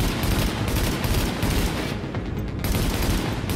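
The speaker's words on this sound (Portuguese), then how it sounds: "Tá tipo uma minigun, é?" Rapid, sustained automatic gunfire like a minigun in The Division, a dense continuous rattle of shots at steady loudness throughout, with a brief lull partway.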